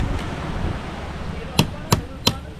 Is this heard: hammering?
yes